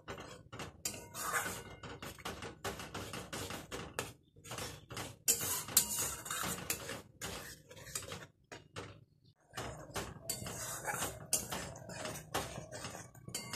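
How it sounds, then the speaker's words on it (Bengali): Cashew paste is stirred and roasted in a pan for raw banana kofta curry: close, irregular scraping and clattering of a utensil against the pan, with brief pauses and no talking. "কাজু বাদামটা দেওয়ার পর একটুখানি ভালো করে নেড়ে চেড়ে কষিয়ে নেব।"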